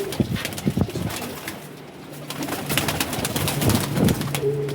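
Several pigeons coo in repeated, overlapping bursts, close and fairly loud, with shuffling and a low background hum and no talk.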